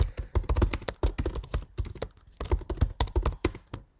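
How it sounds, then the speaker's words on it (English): Rapid, close typing on a computer keyboard, an even stream of crisp key taps with a brief pause near the middle before the clatter resumes. "And then we'll type in the address and we'll put a fictional address in there."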